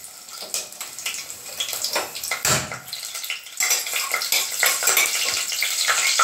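Green chillies and spices fry in hot oil in a pressure cooker, a steady sizzle broken by metallic clinks and scrapes of a spoon stirring against the pot.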